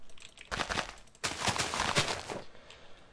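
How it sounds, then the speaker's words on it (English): TNT blowing up in the video game Minecraft, heard as two loud, crackling bursts of explosion noise one after the other, each trailing off into rumbling debris. "That this explosion's so powerful."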